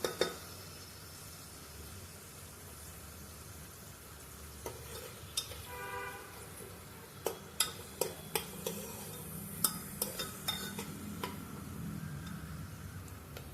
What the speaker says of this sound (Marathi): व्यवस्थित कांदा भाजून घ्या। कांद्याचा कच्चा वास जाईपर्यंत।